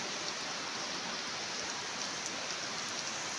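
Heavy rain pours steadily in a dense, even hiss, close and constant with no pauses.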